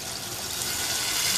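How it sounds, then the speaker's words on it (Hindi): About two cups of water pour into a pot of Chiniot-style chicken kunna partway through cooking, giving a brief, loud, steady rushing splash heard up close. "तकरीबन 2 कप पानी डाल के"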